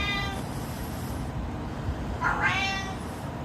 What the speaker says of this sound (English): My cat's in the background.